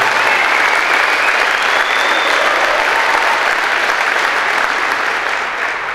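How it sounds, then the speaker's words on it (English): Audience applause at a banquet honoring Gene, a sustained dense wash of clapping from a large room that holds steady for the whole stretch and eases slightly at the end, with no voices over it. "I think we all should give Gene a round of applause for his accomplishments"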